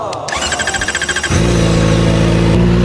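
A Kawasaki ZX-4RR motorcycle fires up and revs, a choppy, pulsing start giving way to a loud, sustained high-pitched engine drone heard up close.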